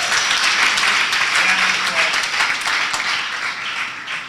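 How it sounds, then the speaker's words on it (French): A church audience applauds a pastor, a dense, continuous wash of clapping that starts strong and slowly fades over a few seconds. "Je pense que vous devez l'acclamer pour ça"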